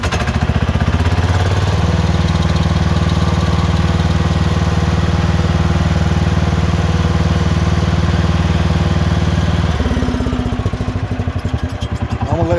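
A John Deere Gator utility vehicle engine idles steadily up close, a loud continuous mechanical drone that holds even for about ten seconds before the pitch shifts and the running turns rougher near the end.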